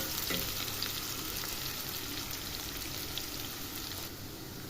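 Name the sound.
onions frying in oil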